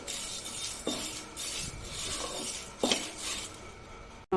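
Ingredients for spicy pulihora dry roasted in a pan, a steady close stirring scrape and rattle of metal against the pan, with a couple of louder knocks and no talk.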